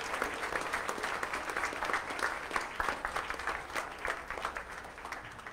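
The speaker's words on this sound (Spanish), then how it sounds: "Un aplauso a estos catequistas." A church congregation applauds its catechists during Sunday Mass, steady, moderately distant clapping from many hands that continues evenly, fairly soft overall.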